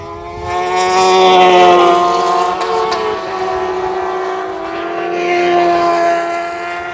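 Racing motorcycles scream past at Knockhill circuit, their engines swelling loud and near, then fading, with several overlapping passes and rising and falling pitch.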